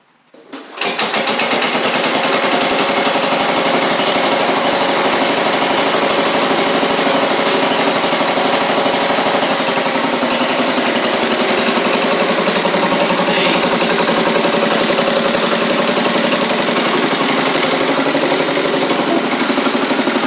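A classic Cub Cadet 70 garden tractor engine with a leaking carburetor starts abruptly and then runs loud and close for the whole stretch, a fast, steady, rattling small-engine chatter with no talk over it.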